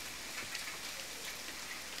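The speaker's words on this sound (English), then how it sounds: "And the very loud rain." Heavy rain in The Forest video game falls as a dense, steady hiss of drops on surfaces, constant and unbroken, with no voices.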